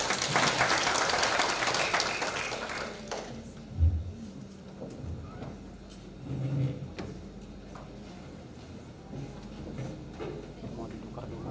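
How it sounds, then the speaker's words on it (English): A seminar audience applauds as the next session is handed to the moderator. The clapping is loud at first, then fades after a few seconds to faint room noise and scattered small sounds. "Let's give applause."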